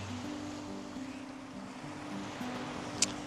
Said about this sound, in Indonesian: Ini suasana pantai pagi-pagi.